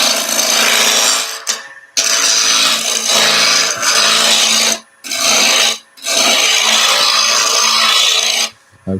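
A rippled ash wooden spatula turning on a lathe as a cutting tool scrapes it, loud continuous raspy shearing in long bursts broken by a few brief silent gaps, close up, no talking.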